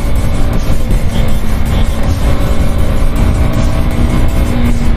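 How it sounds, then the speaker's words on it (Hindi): Superbikes rev hard and pass along a road, a loud, continuous roar of several engines that stays dense and steady the whole time, with no voices over it. "पूरा सिधरा गूंजता जब सुपर बाइक निकलती है ना"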